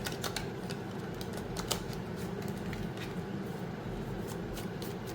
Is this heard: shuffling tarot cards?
yes